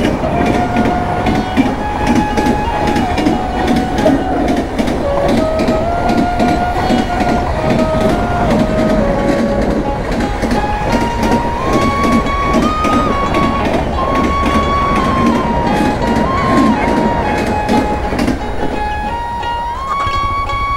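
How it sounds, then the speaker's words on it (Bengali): The Agartala Express thunders past a village level crossing near Jalpaiguri, loud and close, with continuous clickety-clack of wheels over rail joints and a long tonal screech of wheels and brakes running through the whole passage. "ট্রেন চলে আসছে।"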